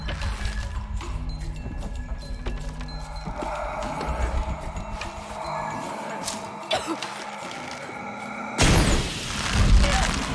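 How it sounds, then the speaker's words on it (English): An explosion in the Shadow of the Tomb Raider video game: a sudden loud, broad blast bursts out near the end, following a stretch of busy in-game clatter and rumbling effects. "Have to create an explosion."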